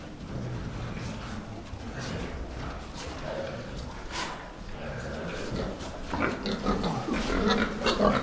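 Pigs in a pen produce a dense, continuous mix of low grunts and snuffling, close and steady throughout, growing a bit busier and louder toward the end, with no clear talking.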